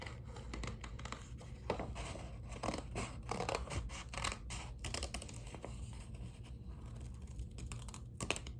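Scissors snip steadily through folded paper while a paper snake craft is made, a dense run of close, crisp cuts and rustles with no talking.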